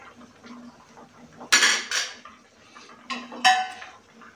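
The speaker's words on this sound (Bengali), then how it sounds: "একটু ঢাকা দিয়ে দেবো এখন" Metal lid set onto a cooking pot of simmering potato and paneer curry, two clattering clanks about two seconds apart, close and moderately loud with faint kitchen background between.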